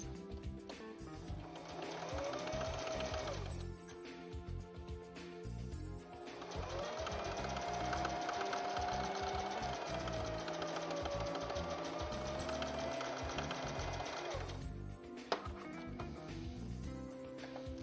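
A sewing machine stitches quilt blocks in two long steady runs, pausing briefly near four seconds and stopping near fifteen, its whirring motor loud and close with no voices.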